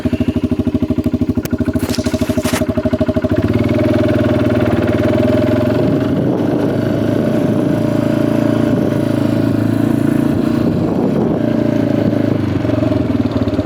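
Motocross motorcycle riding around a dirt track, the engine first idling and clattering, then revving up into a loud, steady, close drone with rising and falling throttle.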